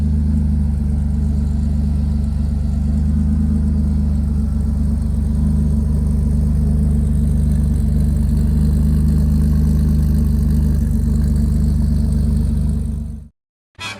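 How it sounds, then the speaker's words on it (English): A truck engine idles while warming up on a cold start, a loud steady low drone with a fixed hum that holds evenly before cutting off abruptly near the end. "just warming the truck up, trying to get some heat into it so it doesn't drive like total garbage"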